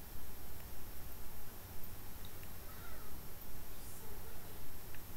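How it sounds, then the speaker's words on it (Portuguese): Seagulls calling over a beach in the video game A Plague Tale: Requiem, a few faint cries above a loud, steady rush of surf and wind. "Barulho das gaivotas."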